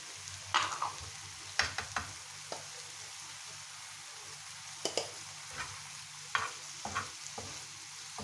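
Chicken botti sizzles quietly on a tawa, with a soft steady frying hiss broken by occasional scraping stirs of a spatula against the pan.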